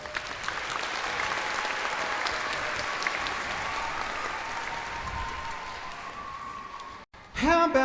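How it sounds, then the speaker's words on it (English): An audience at an orchestral children's concert claps for two performers, a dense sustained round of applause heard throughout, with a faint tonal hum beneath it and a brief clatter right at the end. "Give a big clap for Janine and Patrick."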